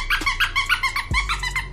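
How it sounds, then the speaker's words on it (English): A rapid series of close, high-pitched squeaks from a toy squeaker, about six in quick rhythm, with a faint low grunt partway through. "it also has a little squeaker in this tummy"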